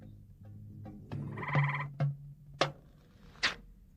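Frogs croak in a garden, a handful of separate low, resonant calls spaced out over a few seconds, close and fairly loud against a quiet background.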